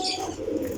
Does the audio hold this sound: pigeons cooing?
yes